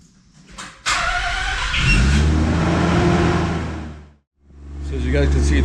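A Mazda Eunos Cosmo's engine revs up loudly close by and holds a steady running drone as the car moves, dips to near silence briefly, then picks back up.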